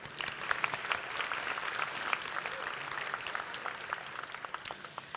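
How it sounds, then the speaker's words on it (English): Banquet guests at a chamber of commerce dinner clap in sustained, moderately loud applause, individual hand claps audible within the crowd wash throughout. "Please join me in a round of applause for Premier Catering for the delicious meal tonight."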